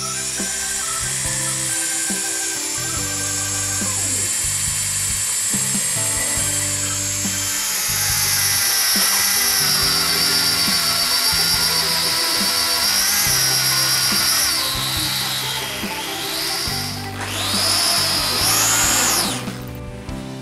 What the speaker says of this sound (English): So we got the holes for the wire ties drilled.